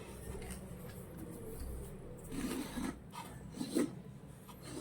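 A pumpkin being cut by knife gives quiet rasping, scraping strokes, a few short rubs grouped toward the second half over a faint background.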